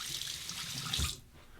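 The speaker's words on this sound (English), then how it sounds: "Cold water rinse." Cold water runs from a tap into a sink, a steady splashing stream that changes briefly as a Fatip Piccolo razor is rinsed under it, then cuts off.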